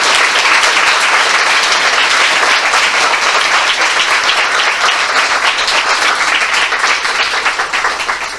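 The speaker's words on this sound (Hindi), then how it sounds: "आइए हम प्रभु यीशु मसीह के लिए एक जोरदार ताली बजाएं।" A church congregation claps loudly for Jesus Christ during a sermon, a dense, steady wall of applause that holds for the whole stretch and tails off slightly at the end.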